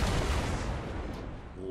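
A gunshot in the video game Fortnite bursts loudly at the start and decays into a broad rumbling tail that fades over about a second and a half.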